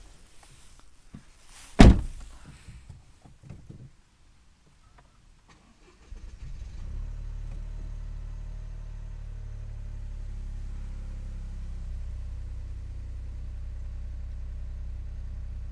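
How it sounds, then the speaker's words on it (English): A 2021 Toyota Yaris GR comes to life: a loud thunk, a short crank and a few seconds of near quiet, then the engine catches and settles into a steady low idle for the rest of the clip. "start the vehicle now. Just so you can see that it starts fine."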